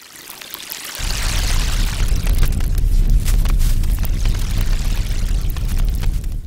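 Synthesized water sound effect for a VR game, a loud, steady rushing and pouring wash that surges in after a brief quiet start and continues alone without a break.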